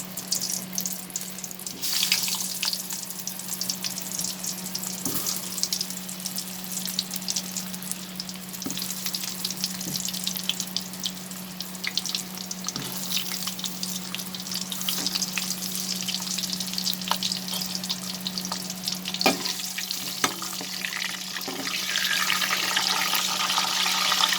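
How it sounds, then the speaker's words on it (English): Pointed gourds frying in hot mustard oil over a high flame, a soft continuous sizzle and crackle with a steady low hum beneath, fairly quiet throughout. "I'm going to add these pointed gourds in this oil and I'll fry them"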